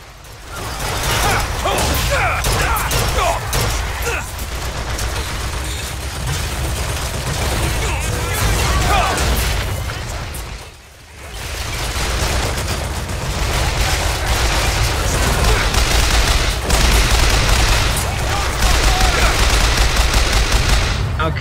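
Dense, sustained automatic gunfire from a deployed turret in the BioShock Infinite video game, with rapid bursts and booms layered over a loud combat soundscape that briefly drops out midway before resuming.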